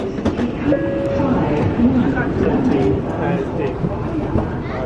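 A train at a Tokyo station platform on a trip that includes the Shinkansen, its loud rumbling carriages and clacking wheels filling the air with a few faint tonal whines, while people talk nearby.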